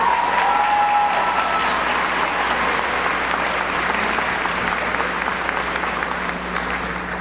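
A large audience at a 2019 high school graduation gives dual enrollment students a sustained round of applause, a thick, continuous wash of clapping that stays loud throughout and tapers only slightly at the end.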